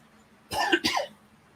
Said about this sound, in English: Sorry about the little bit of cough I got going on here.